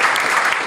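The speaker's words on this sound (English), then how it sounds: "Let's give a huge round of applause for our friends at Pivotal." A brief, dense burst of audience applause rises at a live talk event, steady many-handed clapping heard close and loud for under a second.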